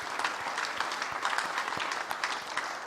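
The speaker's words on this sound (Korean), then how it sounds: "우리 박수로 한번 환영하십시다." A church congregation at a revival service at Gwangju Hanbit Holiness Church applauds to welcome a visiting pastor: dense, steady clapping from many hands fills the room for the full stretch, with no pauses.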